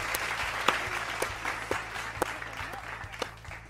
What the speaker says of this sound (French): on applaudit les développeurs